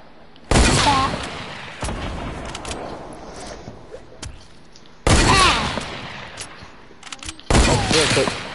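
Rifle gunfire in a video game, with sharp, loud shots ringing out at intervals and a few fainter pops between them over a low background bed.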